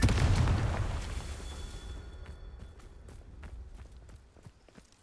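A Confringo fire spell cast in the Hogwarts Legacy video game: a loud, rumbling fiery blast right at the start that slowly fades, followed by a series of soft footstep-like taps.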